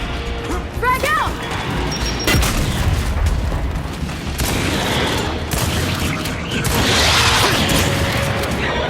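Explosions and heavy gunfire crash through intense combat in Gears 5, with a frag grenade going off amid continuous loud battle noise and shouted voices.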